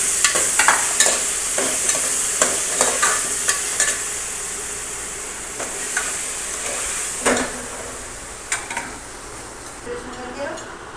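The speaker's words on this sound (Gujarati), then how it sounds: "હવે આપણે તેને સારી રીતે હલાવી લઈશું" Salted food with curry leaves is stirred in a frying pan, the sizzle continuous while a spoon knocks and scrapes against the metal in irregular clanks, close and fairly loud.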